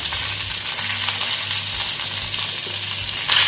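Red chili powder and curry leaves crackle and sizzle loudly in hot oil for a Maharashtrian misal tadka, a close, continuous frying hiss with faint stirring scrapes throughout.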